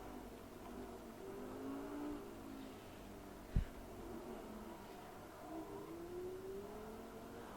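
A car driven in the video game GTA V gives off quiet engine revs that rise and fall in pitch, with a single sharp thump partway through, faint and without talk.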